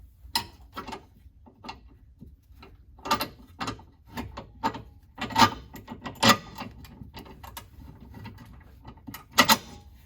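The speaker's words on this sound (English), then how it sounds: "we'll just slide this bolt right back through again" Metal bolt sliding through a wide-wheel trailing arm and spacer on a 2004-2007 Cadillac CTS-V: scattered close clicks, scrapes and light knocks at irregular intervals, with no talk.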